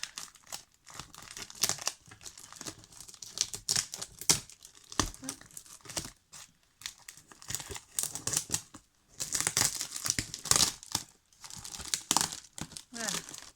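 Paper crinkling, crumpling and tearing while a parcel is opened and unwrapped, in irregular close bursts of rustle with pauses between, with a voice talking at times.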